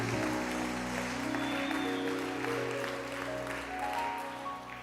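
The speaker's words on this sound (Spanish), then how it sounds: "Si va a aplaudir, aplauda para el Señor." Congregation applauding during a church service, a continuous wash of clapping at a low level, mixed with sustained musical tones beneath.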